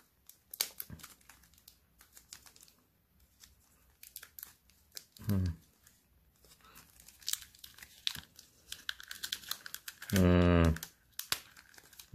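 Packing tape rips off a package in short crinkly bursts, ending with one long loud tear, with rustling and handling noises between.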